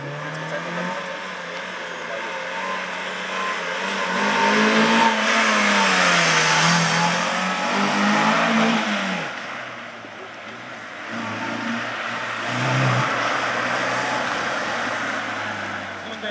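A race car drives toward the finish line at a motorsport event, its engine revving up and down in loud, sweeping surges. The engine rises to a peak midway, eases off, then swells again.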